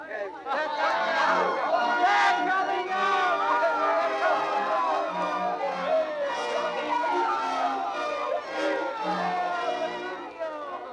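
A crowd murmurs and calls out on the church steps in an audio drama of The Taming of the Shrew, a busy babble of many voices with raised shouts mixed through it.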